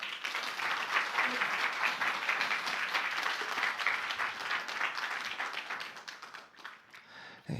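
A church congregation applauds to welcome the pastor at a Sunday worship service. The steady, dense clapping fills the room for several seconds, then thins and fades near the end.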